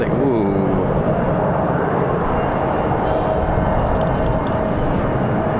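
A Wheels Up business jet takes off from the runway at Raleigh-Durham International on a windy day, its broad engine roar steady and loud throughout, with faint voices and wind noise mixed in.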